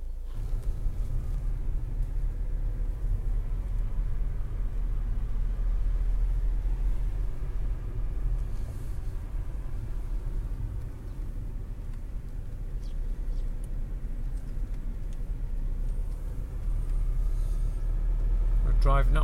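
Car driving slowly through a residential area of Leuchars, with a steady low engine and road rumble inside the cabin throughout and people talking over it.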